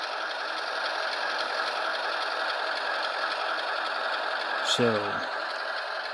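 An ES44AC model locomotive creeps along at speed step 1, giving a faint, steady mechanical hum and soft gear whir throughout, with a brief spoken word near the end.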